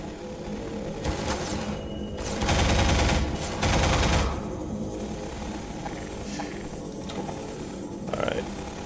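Gunfire in the video game Half-Life 2 comes in loud rapid bursts over a busy background of game noise, with several seconds of sustained shooting followed by quieter ambience.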